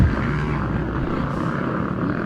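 Suzuki and KTM motocross motorcycles racing in a Masters 50+ moto at Loretta Lynn's 2021, engines droning loudly and steadily up close with a constant rough roar throughout.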